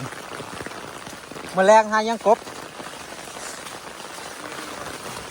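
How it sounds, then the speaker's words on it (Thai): Steady heavy monsoon-season rain hisses throughout, with a brief burst of a voice speaking partway through. "บรรยากาศฝนลงระดูนี่"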